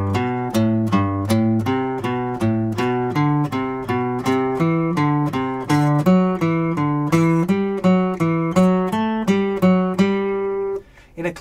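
A plucked guitar plays a steady ascending and descending scale pattern, one clear note after another at an even pace, alone with no voices.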